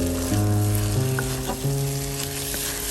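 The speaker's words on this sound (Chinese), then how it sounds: "油温微热的时候倒入豆角鸡蛋液， 在鸡蛋液凝固之前用筷子快速搅拌， 然后转小火，一边翻炒一边搅拌" Diced green beans mixed with beaten egg stir-frying in warm oil over low heat, giving a steady, close sizzle with soft chopstick stirring throughout.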